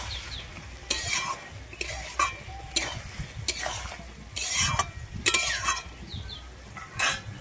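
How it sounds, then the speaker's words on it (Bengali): Chopped coriander is stirred into a tangra fish curry, the spoon scraping the pan in repeated strokes roughly once a second over a soft, steady sizzle, with no one talking. "আমি ধনেপাতা কুচিটা দিয়ে কিন্তু একটু ভালোভাবে মিশিয়ে নিচ্ছি ট্যাংরা মাছের সঙ্গে।"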